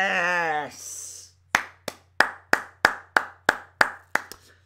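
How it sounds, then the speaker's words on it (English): Ten sharp, evenly spaced hand claps ring out alone in quick succession, right after a voice sings a drawn-out note. "Don't know why I'm clapping"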